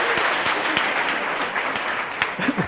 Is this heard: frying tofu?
no